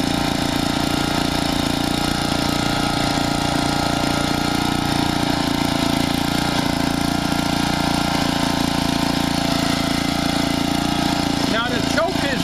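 Small Generac Model 8838-0 1,000-watt generator engine running steadily with its choke about three-quarters closed, a continuous loud drone through the whole stretch, with a brief sputter near the end.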